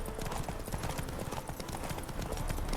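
Horse hooves clip-clop in a quick, steady gallop rhythm in The Witcher 3 video game, close and loud, with faint game sound underneath.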